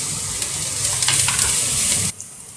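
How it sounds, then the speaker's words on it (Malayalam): Fried rice stirred and tossed in a frying pan in a Kerala home kitchen, with a continuous close sizzle and scraping stirs for about two seconds before the sound drops away. "അത് നന്നായി ഒന്ന് ഇളക്കി യോജിപ്പിക്കുക."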